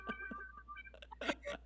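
A kitten gives a few small, thin meows close by, short and quiet, mixed with soft voices talking.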